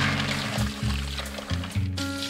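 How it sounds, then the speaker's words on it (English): Water sloshes and swirls in a bowl of chickpeas being rinsed, with soft, uneven splashes, heard close up with no talking. "Take the water off and wash them another time till the water comes real clean"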